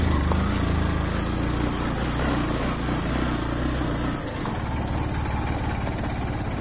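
A motorcycle engine drones loudly and steadily during a long bike ride down from Chandragiri into Makwanpur district toward Chitlang, Nepal, with a constant rumbling vibration and a slight dip in pitch partway through, no voices.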